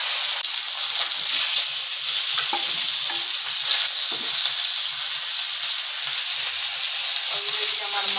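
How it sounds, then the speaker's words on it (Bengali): Tilapia fish pieces frying in hot oil in a pan, giving a loud, steady, continuous sizzle and hiss with occasional light stirring scrapes, and no voices. "মাছটা আমার ভাজা অলরেডি হয়ে আসছে"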